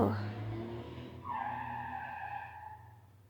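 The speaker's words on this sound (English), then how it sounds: "half these cars sound like a car crash waiting to happen" Car tires skid and squeal on a city street, a drawn-out screech rising midway and fading over a steady low engine rumble, with voices murmuring underneath.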